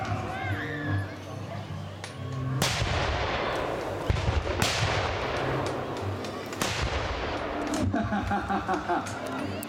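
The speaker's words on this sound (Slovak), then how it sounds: "Delostrelci pripravení? Pal!" Cannons fire in a historical battle reenactment, a 2012 re-enactment of the siege of Červený Kameň castle. Three loud, booming blasts land a couple of seconds apart amid shouting and crowd chatter.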